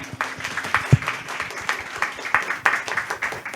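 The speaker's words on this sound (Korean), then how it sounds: "큰 박수 부탁드립니다." A small audience at a startup showcase event claps in scattered, uneven bursts, modest in volume, with a faint murmur of voices underneath.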